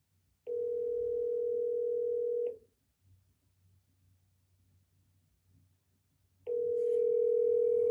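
A quiet telephone ringback tone sounds twice: a steady two-second burst, a long silent pause, then the tone again.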